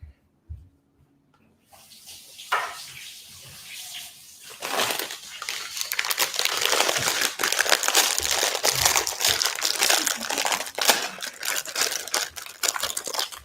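A plastic food bag crinkles and rustles continuously at close range during a kitchen meal of army stew, dense and steady with no talking.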